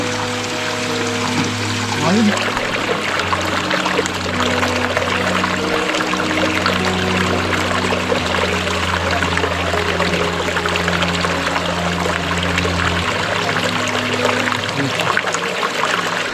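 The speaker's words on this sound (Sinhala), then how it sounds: "හරි පොඩි වතුර පාරක් හම්බුනා. මේකෙන් අපිට බොන්න වතුර පුරව ගන්න පුළුවන්." A small jungle stream trickles and flows on a hike near Kotagaga in Sri Lanka, a steady close wash of water with a low hum beneath, lasting throughout without talk.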